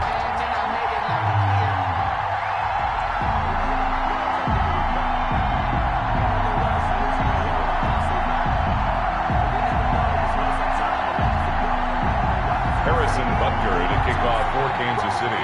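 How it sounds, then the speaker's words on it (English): A sold-out stadium crowd in an EA Sports NFL video game, Bills versus Chiefs, roars steadily throughout, a continuous wash of cheering beneath a commentator's voice and game music. "a moment ago they entered to the delight of this sold-out crowd"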